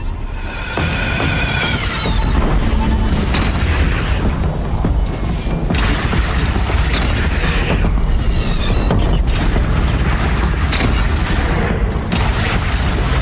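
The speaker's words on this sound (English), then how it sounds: "Take up the cannon!" Cannon fire in the Horizon Zero Dawn video game on PS5: loud, continuous booming and mechanical creaking with dense low rumble that barely lets up, punctuated by sharper bursts.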